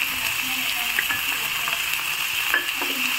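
Chopped tomatoes fry in a pan with curry leaves for prawn sukka, a steady close sizzle with occasional stirring scrapes and faint background noise.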